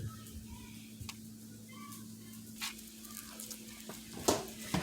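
Steak meat frying in a pan at home for Philly steak stuffed bell peppers gives a faint, steady sizzle, with occasional light ticks and scrapes of stirring over a low hum.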